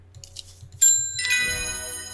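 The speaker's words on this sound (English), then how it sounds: "Oops, I accidentally rang the doorbell." A doorbell rings in the video game Strange Horticulture, two bright chimes in quick succession that ring out clearly and linger over a quiet background.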